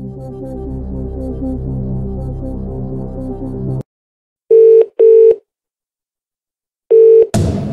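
A phone-a-friend call being dialled in the Who Wants to Be a Millionaire video game: a sustained tone cuts off, followed by three short loud electronic dial beeps with silent gaps between them and a final burst.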